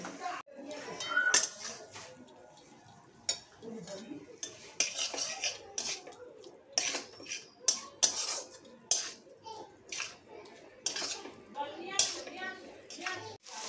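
Spoon stirring a coconut prawn curry mixture of cashew, chilli and coconut paste in a pan, with repeated scraping clinks and metallic taps spread across the stretch; faint voices and background noise sit underneath.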